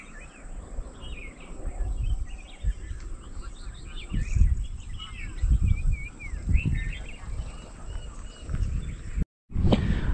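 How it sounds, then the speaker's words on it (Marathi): Birds call in the Konkan countryside on an agricultural plot, a mix of scattered chirps and tweets over a steady insect drone and low wind rumble, moderately faint and distant with no talk. "पक्ष्यांचा आवाज तुम्ही ऐका."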